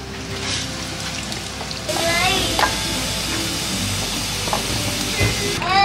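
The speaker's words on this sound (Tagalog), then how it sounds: "Fry lang natin saglit." Beef for bistek tagalog fries in a pan with a steady close sizzle and hiss that grows louder partway through, broken by occasional stirring clinks.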